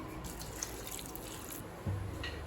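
Water trickles and splashes steadily into a pan of 400 grams of beans with salt and turmeric for a Tamil beans poriyal, faint and close, with a soft clunk near the end.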